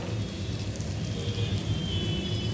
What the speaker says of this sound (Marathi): आता हे मसाले जरा असं परतून घेऊया